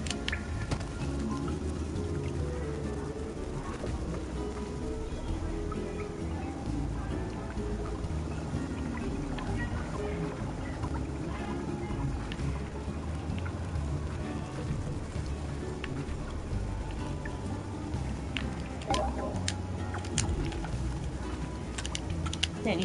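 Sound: rain falling in a video game

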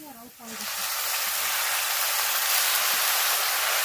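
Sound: makoy greens added to pan of fried onion and chili, sizzling

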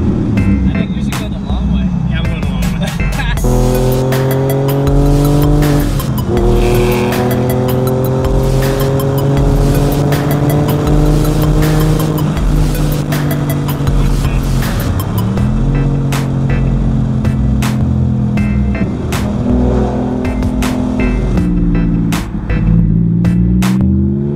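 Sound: Porsche 911 car driving

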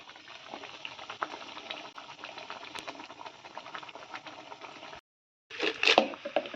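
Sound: curry gravy boiling in pot

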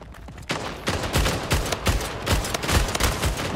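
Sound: gunfire from a video game (Splitgate)

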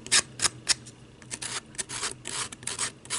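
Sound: filing edges with a fingernail file

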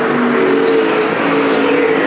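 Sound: street stock race cars on a speedway

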